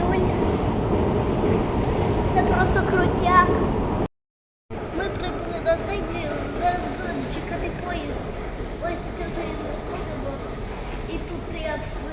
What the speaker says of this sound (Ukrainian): Це світло, ось це і є поїзд.